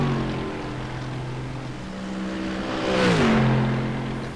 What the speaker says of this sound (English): Beautiful sounding Mercedes there of Javier Alvarez coming into the final braking zone of the lap